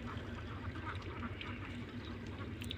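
A large flock of roughly 600 to 700 farm ducks quacks together among rice-field ridges, a dense, continuous, fairly faint chatter heard from a short distance.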